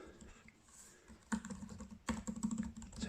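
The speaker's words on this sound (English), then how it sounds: "It's a quiet keyboard, a nice travel on the keys." Typing on the keyboard of an ASUS Zenbook S UX393 laptop: quiet, soft key clicks in two rapid, dense bursts after a brief lull, close and clear with no talk.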